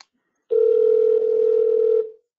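A telehealth video call's ringing tone, one steady electronic beep of about a second and a half, loud and clear with no talk.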